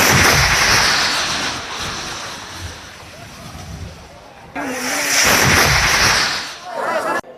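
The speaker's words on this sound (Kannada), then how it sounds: "ಸ್ಫೋಟದ ಎಕ್ಸ್ಕ್ಲೂಸಿವ್ ದೃಶ್ಯಗಳನ್ನು ನೀವು ಗಮನಿಸ್ತಾ ಇದ್ದೀರಿ" Gas cylinders explode during a late-night shop fire on Lingadagudi Road in Vijayapura. Loud, booming blasts and sharp cracks mix with the roar of the fire, and a new burst hits abruptly midway, with voices faintly underneath.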